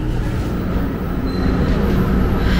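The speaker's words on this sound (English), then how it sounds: "we're going to take the train into New York City" A train heading into New York City rumbles steadily along the rails with a continuous low roar and faint metallic squeal, loud and close, with no talking.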